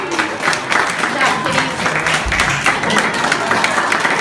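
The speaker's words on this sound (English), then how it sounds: "I think they deserve a big round of applause for finding all their meatballs." Applause from a zoo audience at a lion exhibit, a steady, crowded wash of clapping with voices mixed in.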